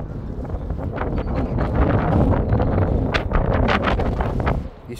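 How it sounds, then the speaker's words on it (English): Wind blows across an outdoor sports pitch during a youth match, a steady roaring gust that buffets the microphone for the whole stretch, with no voices. "You forget how windy this pitch is."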